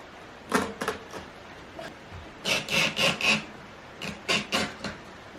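Hand sawing trims excess wood from an intake screen box for a micro hydro system, heard as close bursts of rasping strokes in three quick groups separated by short pauses.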